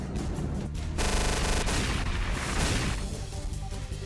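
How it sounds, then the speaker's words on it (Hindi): A multiple rocket launcher strike sets off a dense run of booms and blasts, loud and continuous with overlapping bursts, and no one speaks. "धमाके की आवाज से गूंजा पूरा इलाका।"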